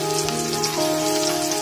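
Onions frying in hot oil with cumin seeds and a bay leaf give off a steady, even sizzle like light rain, with a faint tonal hum underneath and no voices.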